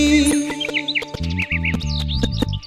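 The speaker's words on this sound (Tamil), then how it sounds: "பறவையின் குறிப்பு ஒலி" Quick high bird chirps and tweets repeat over steady instrumental music with low sustained tones.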